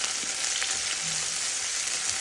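Garlic and green chili fry in a pan for a Kerala-style tomato curry, giving a steady, close broadband sizzle that holds evenly throughout, with faint stirring scrapes now and then and no voices.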